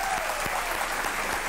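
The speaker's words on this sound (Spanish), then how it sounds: "aplauso para ella" An audience claps during a live opinion show, a thick, continuous burst of applause filling the whole short stretch at a steady loudness.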